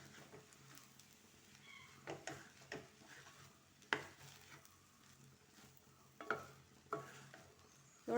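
A spatula stirs and scrapes egg mushroom fried rice in a frying pan, with soft scraping and a few louder knocks against the pan over a low sizzle.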